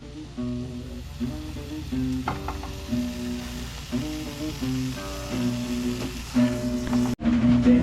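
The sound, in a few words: tomatoes sizzling in a pan for salsa tatemada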